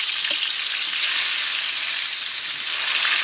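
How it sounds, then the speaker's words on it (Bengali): Eggplant fries in hot oil with a loud, steady, close sizzle, a continuous hissing crackle that holds evenly throughout with no talk over it. "বেগুন ভেজে নেব,"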